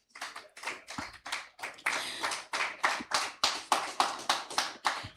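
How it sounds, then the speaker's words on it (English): At a conference and exhibition, a few people clap in a slow, uneven rhythm, each distinct hand strike sounding close and sharp, with brief gaps between clusters of claps. "Please, a round of applause for her."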